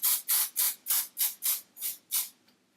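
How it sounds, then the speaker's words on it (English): Eight short bursts of hairspray hiss onto hair in a quick, even rhythm close by, the last one slightly delayed before silence. "I'll do another quick spray"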